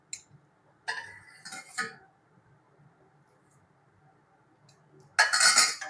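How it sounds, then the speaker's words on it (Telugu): A Mysore pak mixture is stirred in a pan over a low flame, with a few scattered scrapes and clinks of a metal spoon against the pan, then a louder, denser burst of scraping near the end. "లో ఫ్లేమ్లో పెట్టుకొని ఇలా కలుపుతూనే ఉండాలి"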